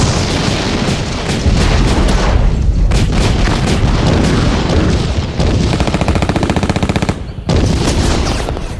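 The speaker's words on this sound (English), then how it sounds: "There is even a full CD of thrilling sound design scenes that put you in the middle of a war zone." Cinematic war zone sound design with dense machine gun fire, booming explosions and artillery, loud and continuous with rapid automatic bursts and heavy impacts layered throughout.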